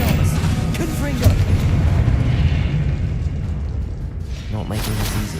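A Confringo spell blast goes off in a Hogwarts video game as a loud, sustained booming rumble that swells and fades, with a voice heard at moments.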